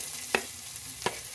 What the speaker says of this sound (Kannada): ಟೊಮೆಟೊ ಸ್ವಲ್ಪ ಫ್ರೈ ಮಾಡ್ಕೊಳ್ಳಿ.